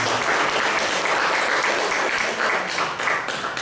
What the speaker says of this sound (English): please give applause for